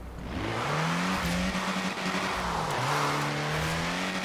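A Willys Jeep engine drives in Forza Horizon 4 on the Bamber Pinewood Trail, upgraded to B class, droning steadily with a gear shift and rising revs, loud and close throughout, no talk.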